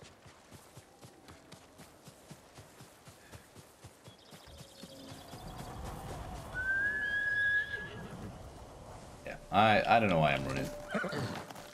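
Horse neighing and whinnying in Ghost of Tsushima, a bright whinny rising mid-clip amid galloping hooves and game ambience, with someone talking over it.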